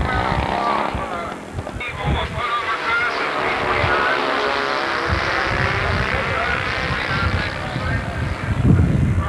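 Propeller aircraft landing on its main wheels with a little hop at a bomber field, a loud continuous engine drone close by with a slight surge near the end.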